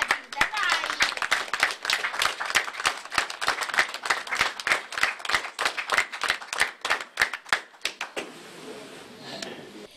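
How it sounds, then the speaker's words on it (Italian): Crowd clapping at a 100th birthday celebration in Grottaminarda, dense rhythmic applause close by that stops abruptly near the end, leaving quiet room sound. "Un applauso alla Madonna e per questa."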